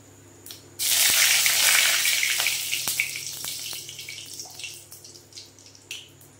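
Whole cumin seeds and bay leaves hit hot oil with a sudden loud burst of sizzling that crackles and spits, then gradually settles into a softer, popping fry.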